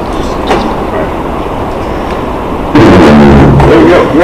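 A beginner blows into a sousaphone, producing a rough, loud, buzzy low tone that enters abruptly after a stretch of quiet room noise and wavers unsteadily for about a second and a half.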